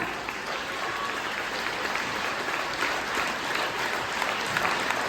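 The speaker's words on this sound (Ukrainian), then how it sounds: "Покупайте нас у оплесках!" Concert audience applauding steadily at a stage show of Transcarpathian folk song by a singing ensemble, dense continuous clapping holding an even level for the whole stretch with no talk over it.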